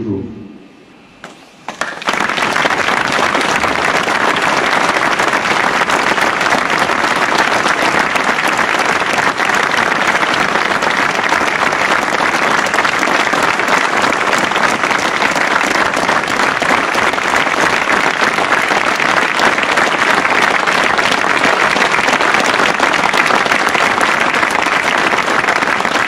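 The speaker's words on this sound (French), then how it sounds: "On va essayer d'applaudir le plus fort qu'on peut." A large crowd at a motor racing weekend claps as hard as it can in tribute. After a quiet start, a loud, dense, unbroken roar of applause holds steady for over twenty seconds.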